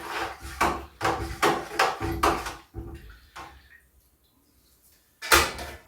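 Home-brewed beer being stirred in a fermenting container on a kitchen counter: a series of loud knocking, scraping strokes in an uneven rhythm, a short quiet pause, then one more burst of stirring.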